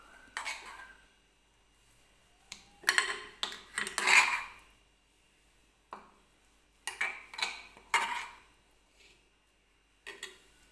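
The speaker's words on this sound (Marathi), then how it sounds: "तर आता याच्यामध्ये आपण जे कांदा टोमॅटो वगैरे घेतलेला आहे तेलामध्ये भाजून, ते मी टाकून घेणार आहे." Fried onion and tomato are added to soaked rava batter for instant rava appe, heard as a few separate bursts of spoon clinks and scraping against a bowl with quiet pauses in between.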